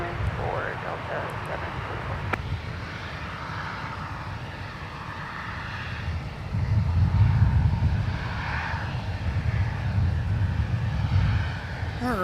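A CRJ 900LR regional jet at Minneapolis–St. Paul Airport produces a steady engine roar that swells partway through, heard from a runway-side spot with a voice speaking faintly over it.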